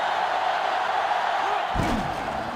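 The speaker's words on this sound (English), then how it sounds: "this crowd is going absolutely insane" A stadium crowd in NCAA Football 2005 roars steadily throughout, a dense wall of noise that swells with a sudden burst of louder shouting near the end.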